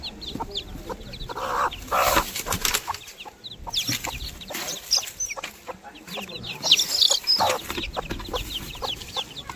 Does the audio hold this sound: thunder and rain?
no